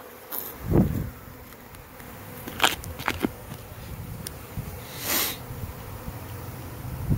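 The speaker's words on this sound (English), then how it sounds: "mainly just a lot of bees in the air" A swarm of honey bees buzzes steadily in the open air, with louder individual bees passing close by now and then.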